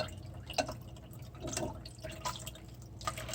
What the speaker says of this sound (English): We're just going to go on and dump it into the strainer.